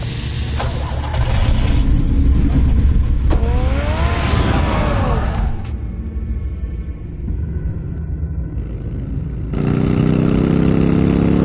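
A car engine from the Batman: The Telltale Series video game revs and drives loudly, steady rumble with a brief whine, then drops to a quieter idle before surging back up near the end, no talking.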